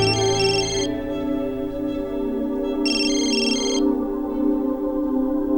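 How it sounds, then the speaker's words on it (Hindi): A mobile phone ringtone plays as two short bursts of a bright repeating electronic melody, about three seconds apart, over a steady background music bed with no talking. "वो रोहित का फोन है"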